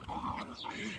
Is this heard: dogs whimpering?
yes